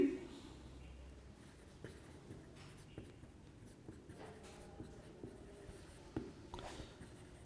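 Chalk or marker writing on a board during a Hindi-language chemistry lecture, faint scratchy strokes in a steady rhythm against a low room hum, with light tapping accents and no talk over them.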